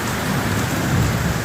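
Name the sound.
rain falling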